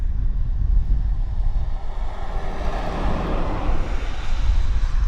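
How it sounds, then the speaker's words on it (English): US military C-5 Galaxy heavy transport aircraft at Abbotsford International Airport, a loud, steady low jet engine roar with broadband rumble and some wind buffeting, continuous throughout with no talk. "it's just wonderful to have the U.S. military with their C-5 Galaxy here at Abbotsford International Airport"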